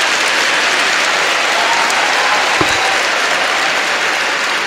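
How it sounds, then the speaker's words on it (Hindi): An audience at a talk by a doctor gives a loud, sustained round of applause, dense clapping filling the whole stretch at an even level with no speech over it. "आप लोगों को खुद के लिए एक बार बहुत ज़ोरदार तालियां बजानी चाहिए खुद के लिए"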